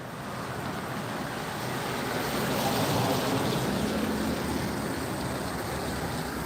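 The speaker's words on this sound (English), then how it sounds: "They got a little creek." Small creek flowing through a mountain setting near Whitesburg, Kentucky, a steady broadband rushing wash that swells slightly midway, continuous and fairly close with no voices.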